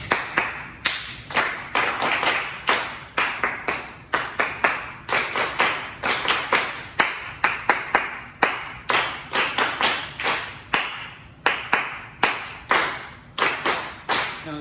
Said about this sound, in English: clap this rhythm